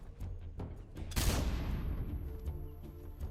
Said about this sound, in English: I just chuck a grenade in here.